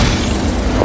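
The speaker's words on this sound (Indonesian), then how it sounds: "terjadi sebuah ledakan besar" Big bomb explosion in a film scene: a dense, loud, sustained low boom filling the whole short moment with heavy rumbling energy and no voices.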